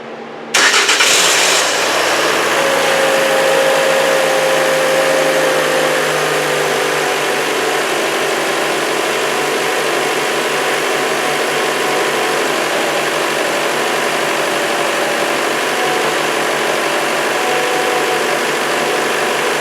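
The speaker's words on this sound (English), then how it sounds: "we're going to start it up and let it run for just a minute" A 2018-2019 Toyota C-HR engine cranks and catches with a sharp burst, then settles into a steady, loud idle with a faint whine, running on alone with no talk.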